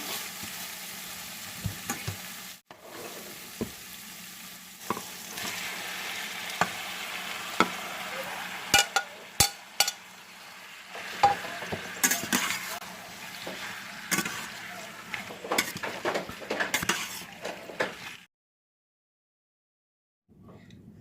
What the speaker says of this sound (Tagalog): pwede na natin ilagay yung ating karne.